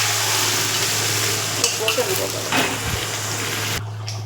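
Chicken goes into a pan of browned onions and whole spices, giving a broad, close sizzle with bits of stirring and clatter that drops away suddenly near the end.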